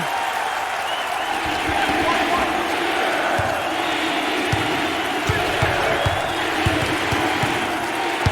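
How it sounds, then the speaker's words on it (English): Virtual basketball crowd in NCAA March Madness 08 cheering and applauding steadily throughout, with a dense roar of voices and scattered claps and whoops at an even, loud level. "Listen to this crowd. Oh, there's all kinds of people standing and cheering and going wacky."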